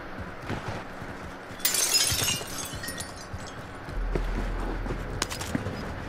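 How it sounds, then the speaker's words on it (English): Glass shattering in the online shooter Call of Duty Warzone: a bright, loud burst of breaking glass partway through, against steady in-game background noise, followed later by a low rumble and further clatter. "That you break the glass and come across the street?"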